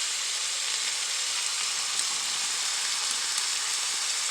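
Meat frying in butter in a pan, a steady bright sizzle that holds evenly throughout, close up and without any talk.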